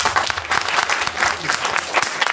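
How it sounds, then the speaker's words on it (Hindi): An indoor audience at a group leaders' event gives dense, steady applause, close and loud throughout. "सभी के लिए एक मर्तबा दिल से तालियां"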